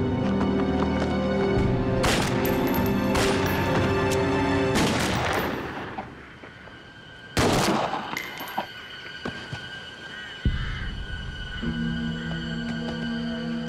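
Gunfire crackles through a film shootout, several loud sharp shots spaced over a few seconds, echoing against a background music bed.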